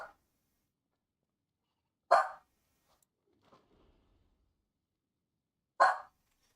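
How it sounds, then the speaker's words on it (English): A dog indoors gives two sharp, separate barks a few seconds apart, moderately near, with near silence between them. "Stop barking, buddy."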